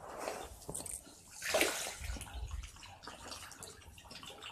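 Fish in a newly built pond splash and churn at the surface as they rush food during a feeding test, a steady watery sloshing with a brief stronger splash midway, fairly faint and without talk.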